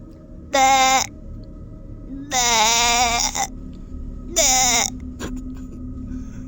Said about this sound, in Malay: Akibat kambingnya mengembik-ngembik tak berhenti.